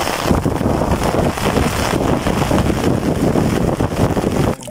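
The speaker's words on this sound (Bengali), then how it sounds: "প্রচুর বাতাস বইছে, বৃষ্টি" Strong wind blows across the Chalan Beel wetland during a rainstorm, loudly buffeting the microphone in a continuous roar that cuts off abruptly at the end.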